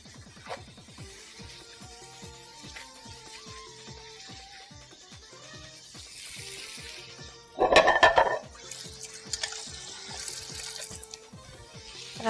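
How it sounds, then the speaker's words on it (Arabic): A plate is washed under a running kitchen tap, water flowing steadily with soft clinks of dishware and a louder splash partway through. "غسلت الطبق اللي انا كنت حاطه فيه الفاكهه"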